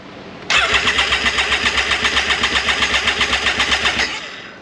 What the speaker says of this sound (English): so we're just gonna get a few cranks out of it